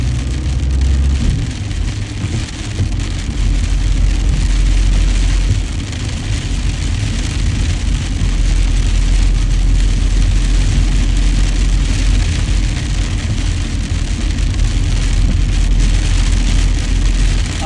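Hailstones pelt a car in a steady, dense drumming that stays loud and close throughout, with no pauses and no voices.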